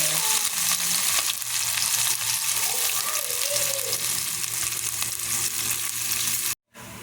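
Onions, green chili and cumin fry in a pan for palak paneer, a steady close sizzle with occasional stirring scrapes, briefly cutting out near the end.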